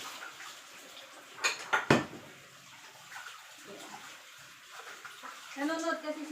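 Dishes are washed in warm water at home, soft clinks of plates and cutlery mixed with running water and sloshing, faint and close, with a couple of louder knocks and someone talking throughout.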